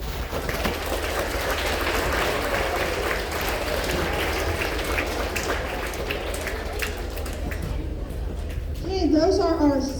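Sustained applause from a school assembly audience honoring 7th and 8th grade students of the month, a dense steady wash of clapping filling the room, with children's voices and whoops rising near the end.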